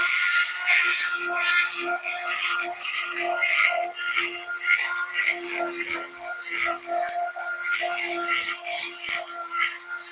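A diamond bit grinds the plated cylinder port of a Stihl MS461 chainsaw, beveling the plating edge; a close, continuous high-pitched scraping buzz rises and falls in short strokes, with no talking.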